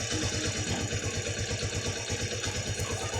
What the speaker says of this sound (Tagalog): Painit lang natin yung makina.